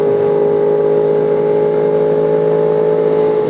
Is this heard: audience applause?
no